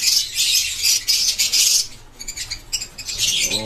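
Wild birds chirp and call in quick, high, overlapping bursts that sound close and fairly loud, with brief pauses between flurries and no talking.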